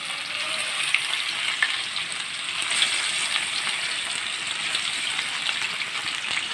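Fish without flour fries in hot oil in an aluminium tray, producing a steady, bright, crackling sizzle with small pops, close and continuous, with no voices.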